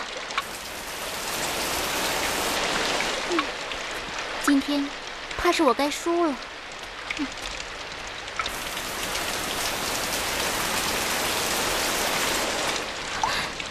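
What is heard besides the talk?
rain falling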